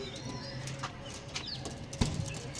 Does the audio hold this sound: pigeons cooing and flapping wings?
yes